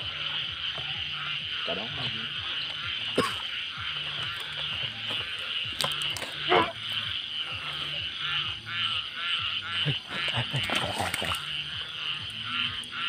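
A frog croaks repeatedly in a steady, close rhythmic chorus over a persistent high buzz of insects or background noise, with occasional clicks and handling bumps.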